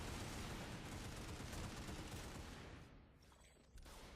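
Infantry company rifles open fire together on command in a burst-fire drill, a dense, loud barrage of overlapping shots that thins toward the end before a final crack.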